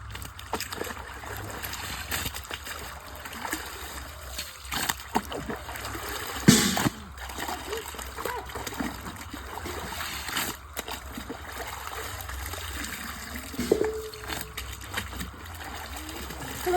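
Clothes are washed by hand in water, giving continuous close sloshing, splashing and dribbling sounds with irregular louder splashes throughout.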